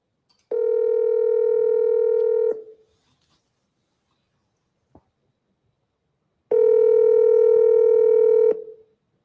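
Outgoing telephone call: two long electronic ringing tones, each about two seconds, separated by a quiet gap with a faint click, no talking.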